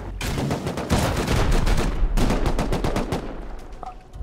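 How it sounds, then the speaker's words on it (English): Rapid continuous minigun fire in the survival video game Rust, a loud dense stream of shots in long bursts with a brief pause in the middle. "dude's got a minigun up there"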